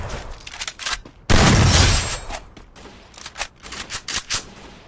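Video game gunfire in a fight on a private island map: a dense loud burst of shots around the middle, with sharper scattered cracks before and after.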